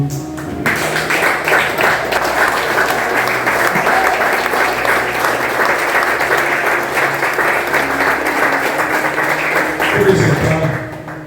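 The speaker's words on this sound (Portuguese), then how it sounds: "vamos aplaudir o Senhor, porque Ele é digno" A standing church congregation applauds for about ten seconds, dense and loud throughout, with faint voices underneath and a brief voice near the end before it stops.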